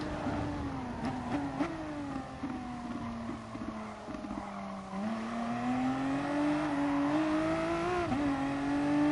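A racing car engine in a rally driving game on a Sardinia stage, its pitch climbing and dropping through gear changes and corners, loud and continuous, with wind rush behind it.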